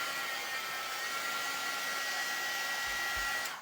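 A hair dryer blows steadily and close, a continuous loud airy whoosh with a faint whine that holds for several seconds before tapering slightly at the end.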